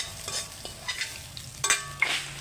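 Food fries in a pan with a constant hissing sizzle while a utensil stirs it, producing several distinct scrapes and clinks at irregular intervals, near and moderately loud without any talking.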